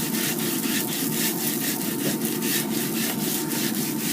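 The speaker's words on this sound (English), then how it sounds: "I'm going to go ahead and give it a quick scrape and see what that does." Steady rhythmic scraping of a used salt block being cleaned, with repeated strokes about four per second, loud and continuous with no talk.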